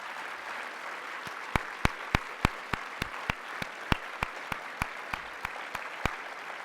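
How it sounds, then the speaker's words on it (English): Dinner audience at the StFX National Dinner applauds in honour of Jim Flaherty, a steady round of clapping with sharp individual claps standing out over a dense wash of hands. "I'm going to ask you to give him a round of applause instead"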